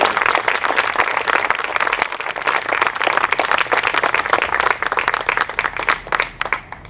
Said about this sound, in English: would you give Dan Gaida a big round of applause?